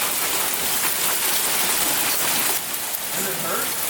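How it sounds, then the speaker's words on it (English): Hard hail and heavy rain drum steadily on a house roof, a dense continuous patter that stays loud throughout with no talking. "It was hailing."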